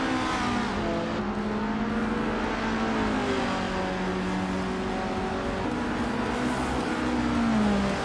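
Racing cars in a video game, including a 1978 Avia AE2, drone steadily with engine whine rising and falling through gear changes, loud and continuous throughout.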